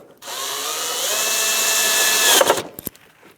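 A power drill or driver whirs steadily for about two seconds while backing out Phillips head screws from a rear inner fender liner on a 2015-2024 Jeep Renegade, then stops, followed by a few brief clicks and knocks.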